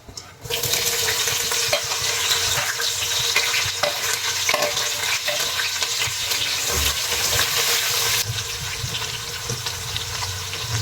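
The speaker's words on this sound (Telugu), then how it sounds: "ఎర్రగడ్డలు గోల్డెన్ బ్రౌన్ అయ్యేంత వరకు మనం దీన్ని ఫ్రై చేసుకోవాలి" Sliced onions and green chillies sizzle and fry in hot oil in a pan for chicken biryani, a steady, loud crackle that begins abruptly and goes on throughout with occasional stirring, and nobody speaks.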